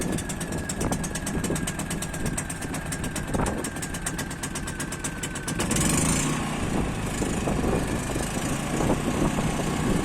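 A small engine runs with a rough, steady drone that grows louder and fuller partway through, close by and without talk.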